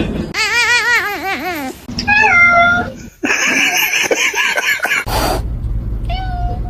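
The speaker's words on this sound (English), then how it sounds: "Meanest kitty of all." Several loud, wavering meows from a black cat, close up, with a short break midway and a final meow after a noisy burst.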